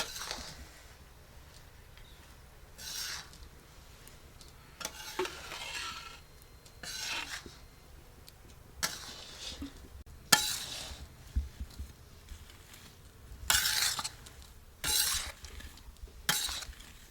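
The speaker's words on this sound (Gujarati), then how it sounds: "હવે આમાં આપણે ઘી નાખી દઈએ." Ghee added and stirred in a pan while making adadiya paak, a soft continuous scraping of a spoon against the metal pan with occasional sharper clinks, quiet and close, no talking.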